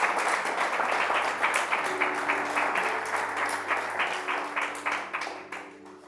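A church congregation applauds steadily, with distinct rhythmic claps under a faint sustained organ or keyboard tone, gradually fading toward the end.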